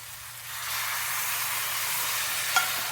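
Chicken with cinnamon and other spices frying in a little oil in a pan, a steady close hiss and sizzle that swells slightly after the start and holds evenly, with one brief clink near the end.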